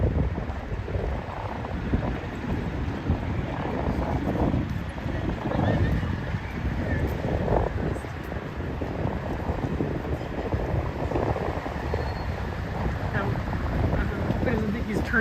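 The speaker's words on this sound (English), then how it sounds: "That's windy, I bet you hear that." Steady wind buffeting a microphone on a Toronto street walk, a low rumbling roar that persists throughout with occasional gusts, loud and close.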